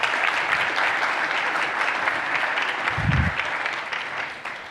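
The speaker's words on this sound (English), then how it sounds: "A round of applause." A conference audience applauds as a speaker is welcomed to the microphone, a sustained, even wash of many clapping hands filling the room, steady throughout with one brief low thump partway through.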